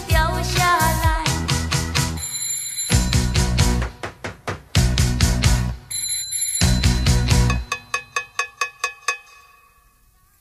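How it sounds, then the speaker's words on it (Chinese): Bell ringing within a song performance, bright repeated metallic rings in bursts alternating with music, ending in a run of quick separate dings that fade out. "我又按了电铃声"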